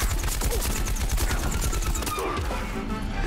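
Rapid, dense bursts of automatic gunfire in Plants vs Zombies Garden Warfare 2, loud and continuous, rattling off in quick repeated volleys.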